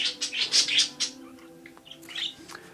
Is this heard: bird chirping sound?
yes